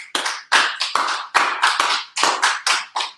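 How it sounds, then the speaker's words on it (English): Sharp, loud hand claps from a small audience come in irregular quick bursts, close and crisp, with no talking over them. "Clap it up for the brother."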